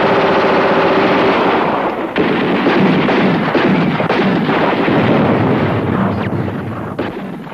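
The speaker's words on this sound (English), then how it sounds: "That is heavy automatic fire." Heavy automatic machine-gun fire crackles in long, dense bursts, loud and close, with a rapid rattling texture that dips briefly then resumes, with no voices over it.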